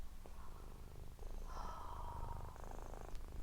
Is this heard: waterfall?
no